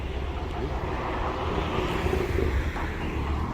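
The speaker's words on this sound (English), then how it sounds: "Noisy car, isn't it?" A noisy car passes near armed police at a civil nuclear site, heard as a steady, loud broadband roar that swells slightly midway, with no talk over it.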